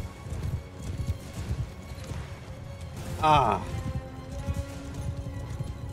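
Horses galloping in the video game Mount & Blade II: Bannerlord, a rapid clip-clop of many hooves under someone talking, with a brief loud neigh near the middle.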